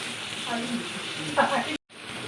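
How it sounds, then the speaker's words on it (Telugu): Tempering spices and coriander powder crackle in hot oil for a fish fry, a moderate steady sizzle with brief stirring scrapes and a voice briefly audible, broken by a short moment of silence before the sizzle resumes. "తాలింపు"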